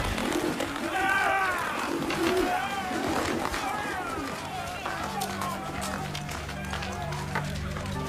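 Pigeons or doves coo and flutter during a staged gospel reenactment of the temple cleansing, a busy scene with voices and crowd noise over steady background sound.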